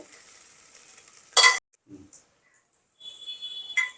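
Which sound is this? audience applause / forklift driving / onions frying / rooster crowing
onions frying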